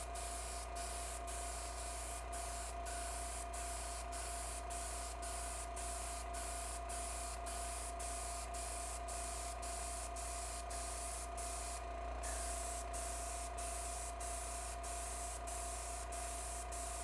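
An airbrush sprays primer onto an HO scale model restaurant building, giving a steady, even hiss that holds for the whole stretch with only a brief change partway through.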